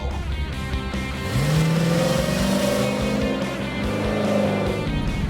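A 1992 Chevrolet Camaro built for autocross accelerates hard, its engine loud and near, rising in pitch through the gears with a brief drop at a shift before climbing again.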